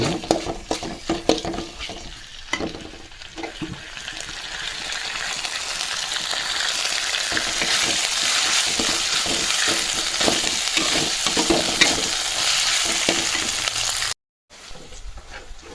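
Ginger garlic paste fries in a hot pan for a chicken roast, giving a steady, loud sizzle with some clinks of stirring. The sound breaks off briefly near the end.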